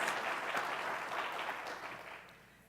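An audience applauds staff members at a conference session, a steady wash of clapping that stays fairly full before tapering off toward the end.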